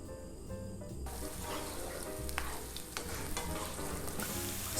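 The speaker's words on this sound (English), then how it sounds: "The oil is sizzling." Green onion sizzles steadily in hot oil in a pan over medium heat, a continuous crackling fry with scattered stirring clicks, close and fairly quiet with no talking.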